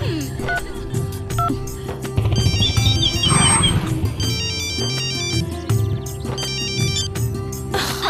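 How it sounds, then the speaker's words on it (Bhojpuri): A phone ringtone plays loudly in repeated melodic bursts, tones stacking over a cluttered background of clatter and noise. "अरे फोन उठाओ"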